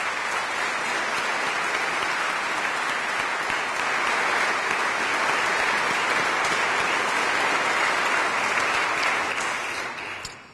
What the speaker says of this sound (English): So let's give them an early applause